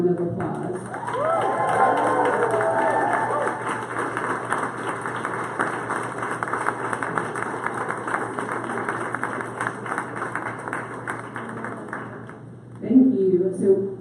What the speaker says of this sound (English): please stand up so that we can give you a giant thank you and round of applause